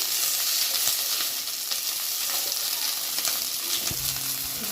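Green chillies frying in oil for a ridge gourd and tomato chutney, a loud, dense, continuous sizzle close up, with occasional stirring clicks and no voices.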